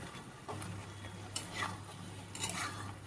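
A spoon stirs chicken curry with freshly added ginger garlic paste in a pan, soft scraping sweeps over a low sizzle, with a few distinct stirring strokes at an unhurried pace.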